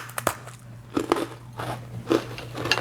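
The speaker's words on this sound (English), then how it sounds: "Hear that crunch?" Crunchy homemade holiday spiced graham crackers being bitten and chewed, several sharp crisp crunches in a row, close and fairly loud with a steady low hum underneath and no talking.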